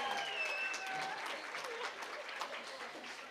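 Faint, distant-sounding applause from an audience at a community festival ambassador coronation honours a group of junior gentlemen, a soft steady patter of clapping with a few faint tonal sounds over the first second.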